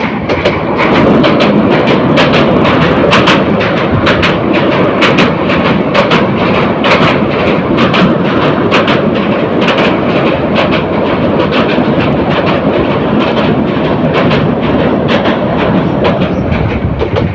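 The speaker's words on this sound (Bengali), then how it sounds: "ট্রেনটি ব্রহ্মপুত্র সেতুতে উঠছে" The Mohanagar Provati Express train crosses the Brahmaputra bridge with loud, continuous rumbling and rhythmic clattering of wheels over the track, close by and sustained throughout.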